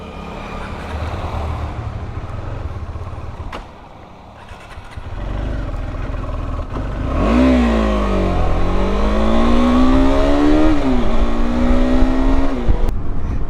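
A car travels along a coastal road, its engine rumbling steadily before revving up hard and pulling through rising and falling gear changes, loud and close, with no talking.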